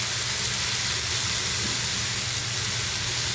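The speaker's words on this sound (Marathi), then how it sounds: "आता ही वांगी बटाटी पण आपण घालूया तेलामध्ये परतून घेऊया" Eggplant and potato pieces sautéing in hot oil in a pan, giving a steady, even sizzle that runs unbroken throughout with no voices.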